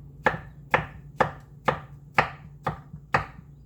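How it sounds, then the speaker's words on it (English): Food being chopped for a salad: seven crisp, evenly spaced knife strikes land about every half second, close and distinct over a low background hum. "So chopping them up is"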